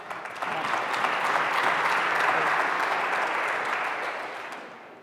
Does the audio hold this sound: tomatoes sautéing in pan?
no